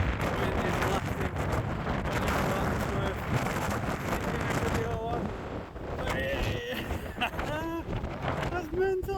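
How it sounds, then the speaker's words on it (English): Strong gusting wind at the coast at Porth Dafarch roars and buffets the microphone, with a person talking and shouting over it throughout. "Because it is really loud. Wind is blasting."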